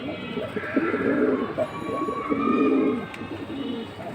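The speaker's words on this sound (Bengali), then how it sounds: "আর এগুলো হচ্ছে ফ্লাইয়ের কবুতর।" Flying-breed pigeons coo close by in a few low, throaty, rolling bursts, with soft background noise around them.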